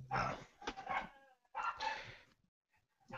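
A dog barks and whimpers in short bursts, a couple of yelping, whining cries separated by pauses, fairly faint and distant.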